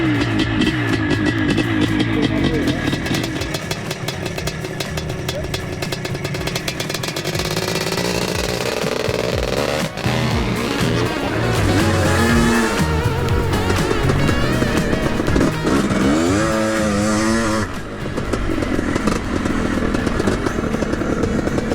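A big-bore 500cc two-stroke automatic dirt bike engine is kicked over and fires up, settling into a loud, raspy, crackling idle with revs rising and falling over the run, close to the microphone.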